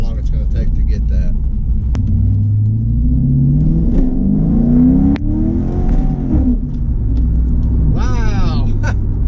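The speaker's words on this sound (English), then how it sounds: "we broke the tires loose when it shifted into second just then" A nitrous-equipped modified car, a Chinese-made Corvette replica, accelerates hard with loud, continuous engine rumble and rising revs, then drops as it shifts into second and the tires break loose; a voice speaks briefly near the end.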